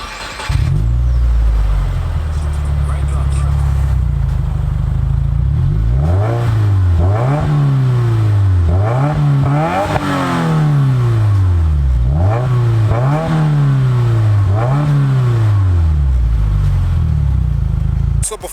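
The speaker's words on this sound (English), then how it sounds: "the performance exhaust, which I think sounds pretty good" A 2019 Subaru WRX Premium with performance exhaust idles with a deep, steady rumble, then revs repeatedly in a series of quick rising and falling blips before settling back to idle, loud and close.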